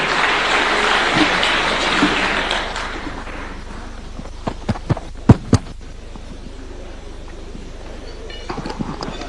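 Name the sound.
audience applause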